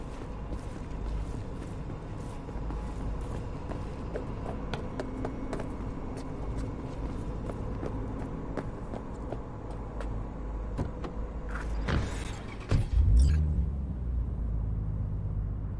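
Steady low rumble of a car driving in Cyberpunk 2077, held at an even level for most of the stretch, with a brief louder burst and thump near the end; no talking.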